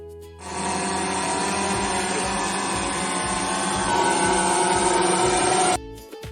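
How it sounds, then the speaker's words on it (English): A small camera drone in flight gives a steady, high-pitched electric whine that buzzes continuously for several seconds, close and loud, rising slightly before cutting off abruptly. "This is a drone, small flying camera buzzing around."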